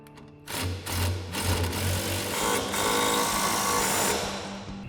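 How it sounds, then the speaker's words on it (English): Impact wrench with a 21mm socket tightening a nut during a RAM 1500 lowering kit install, a near, loud continuous buzzing whir lasting several seconds after a brief quiet start, then easing off at the end. "we'll get our nut on the back side and our impact and 21mm socket and tighten it down"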